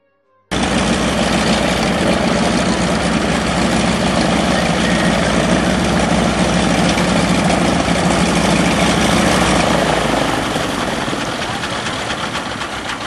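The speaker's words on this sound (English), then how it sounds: "This is a beaver, probably the most popular bush plane." A de Havilland Beaver bush plane on floats runs its engine near Sault Ste. Marie, Ontario, a loud, steady rumbling drone starting abruptly and holding throughout, easing slightly at the end.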